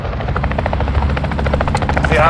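An allied helicopter in Call of Duty: Modern Warfare 2, during a hardcore Domination match on Crown Raceway, drones with a steady rotor chop throughout, loud and close, while a voice talks over it.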